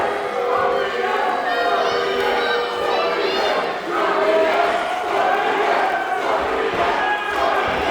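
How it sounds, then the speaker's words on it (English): A rowdy crowd at a Powerslam wrestling match between Sydney Steele and Scorpious keeps up loud, continuous shouting, chanting and cheering from nearby, with voices rising and falling throughout. "Scorpius has a whole cheering section over here. What a rowdy bunch."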